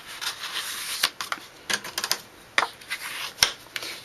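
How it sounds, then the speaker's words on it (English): Crushed curry cardstock is folded in half and creased with a bone folder, giving a string of close, crisp scrapes and sharp clicks that come in uneven bursts with quiet gaps between them. "using the bone folder to fold this"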